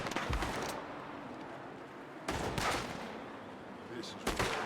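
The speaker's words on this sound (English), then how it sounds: "I'm shooting from the window." Gunfire in Red Dead Redemption 2 as a character shoots from a window, with several sharp close shots and bursts separated by short rumbling gaps, alongside faint game noise.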